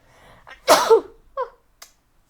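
One sharp, fairly loud human sneeze bursts out after a quiet breathy lead-in, followed by a couple of small faint sounds.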